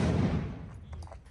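Gunfire during an Israeli raid on the Al-Farah refugee camp in the morning: one loud, sharp blast that rolls away into a long echoing decay, with faint scattered noise behind it.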